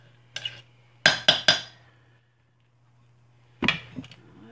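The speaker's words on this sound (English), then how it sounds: "Alright, so we are going to stir." A metal utensil knocks and scrapes against a pot of hot process lye soap, several sharp clinks in a quick cluster followed after a pause by another pair of clanks.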